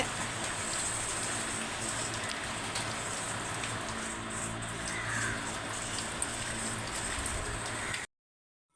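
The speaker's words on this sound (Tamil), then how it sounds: "நல்லாவே கொஞ்சம் ஜோராக தான் பெய்யுது மழை" Heavy rain pours steadily onto a rooftop terrace garden planted with greenery, a dense, continuous hiss of drops hitting the surface from close by, with no voices, before cutting off abruptly at the end.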